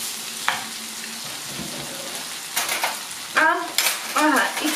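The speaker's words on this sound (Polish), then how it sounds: "Dam tutaj troszkę przecieru pomidorowego. O. Niech on się troszkę podsmaży." Tomato puree sizzles steadily in a hot pan while a Polish-style bean and meat stew in tomato sauce is cooked, with a brief clatter of cookware and a short stretch of close voice sounds near the end.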